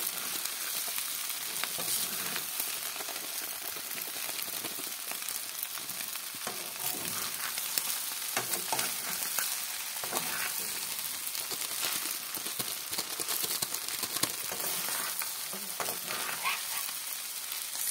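Spicy pasta with pasta masala fries and sizzles in a pan as it is stirred, a constant close hiss with soft irregular scraping of the utensil running throughout.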